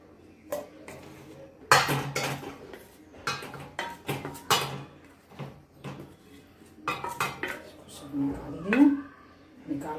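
Lightly shallow-fried pieces of raw banana are lifted from a kadai, with sharp metal clinks and scrapes of a spoon against the pan in irregular bursts, close and clear, while someone talks in between.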